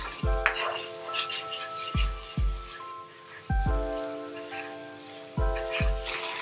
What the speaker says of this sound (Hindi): चला लेंगे चम्मच इसमें अच्छे से और 2 मिनट इसको जिंजर गार्लिक के साथ अपने अनियन को भून लेंगे